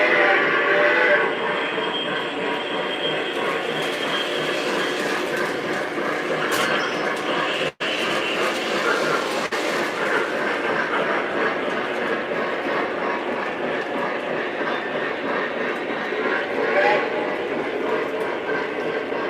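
A model train runs steadily along its track toward a layout railroad crossing, a continuous close rumble and clatter with a brief dropout partway through and faint voices underneath.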